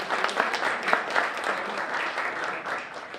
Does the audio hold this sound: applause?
yes